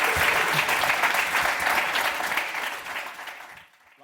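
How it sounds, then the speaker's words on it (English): A conference audience applauds steadily with dense, even clapping that holds for a few seconds before fading out quickly at the end. "Big round of applause."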